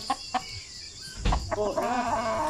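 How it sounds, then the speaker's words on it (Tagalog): A chicken clucks close by, a few short calls early on, then a louder run of warbling clucks near the end, with no talk over it. "Magulang tong manok na to, ha."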